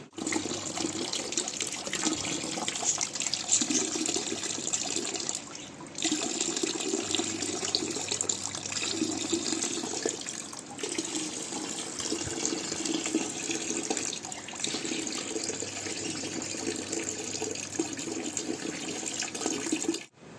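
Water from a tap pours steadily into buckets, a continuous close splashing and gurgling rush with brief pauses as each bucket is changed.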